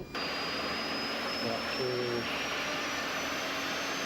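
Avro Vulcan bomber jet engine starting up, a steady broadband roar with a rising turbine whine, continuous and fairly loud, with cockpit speech over it.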